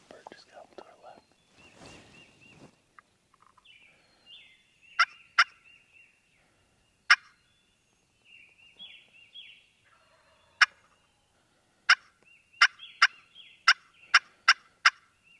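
Wild turkey gobbling near a spring roost in the Kentucky woods, distant at first and then coming in a series of sharp calls, with soft whispering between them.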